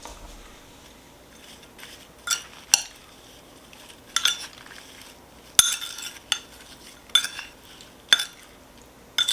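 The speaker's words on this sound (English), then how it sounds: "Now I'm going to stir it." A spoon clinks and scrapes in a bowl of cut strawberries and sugar, giving about eight irregular close-up taps and scrapes over a quiet background.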